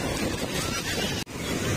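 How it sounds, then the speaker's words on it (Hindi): Sea waves wash ashore on a crowded beach, a loud, steady roar of surf and rushing water close by, heavy with wind noise on the microphone. "ये देखो पानी आया भाई पानी आया।"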